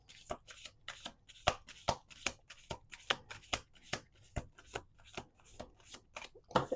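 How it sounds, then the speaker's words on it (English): A deck of cards is shuffled repeatedly, giving quick bursts of riffling flutters and soft taps that come close together in a near-regular rhythm, near and quiet, with no talking. "We're doing 2 more shuffles."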